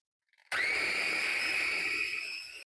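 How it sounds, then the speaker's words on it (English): A food processor whirs loudly and steadily for about two seconds as it blends tomatoes with a teaspoon of tomato paste for a tomato sauce, starting abruptly and cutting off cleanly. "I will start by putting my tomatoes in the food processor, and I will add my teaspoon of tomato paste."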